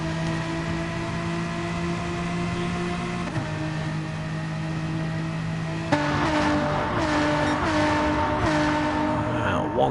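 BMW M4 race cars lapping Suzuka in a racing video game, steady high-pitched engine drone with a gear shift partway through and brief tyre scrubbing, a continuous loud mechanical whine.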